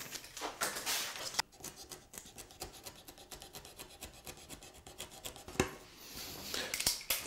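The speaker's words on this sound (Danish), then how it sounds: "Bagsiden, den skal jeg til med min kniv." A knife trimming the back edge of a wooden window sill board: fast, rhythmic scraping and shaving strokes close by, quiet, with a few sharper clicks and a brief pause partway through, no voices.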